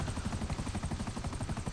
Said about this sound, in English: A helicopter coming.